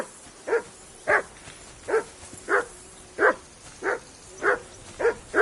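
Dog barking in the video game Kingdom Come: Deliverance II, about nine evenly spaced single barks at a steady pace, moderately close, with no talking.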